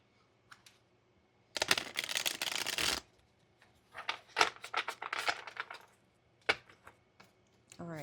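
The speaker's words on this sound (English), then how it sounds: "Let's get this a good shuffle." Tarot cards are shuffled by hand in several quick riffling bursts with short pauses between them, close and crisp, followed by scattered card taps.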